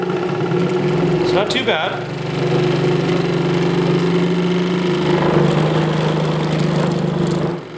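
A Delta 16-inch variable speed scroll saw runs with a steady, slightly rough motor hum and buzzing vibration, close and loud throughout, while someone speaks briefly over it.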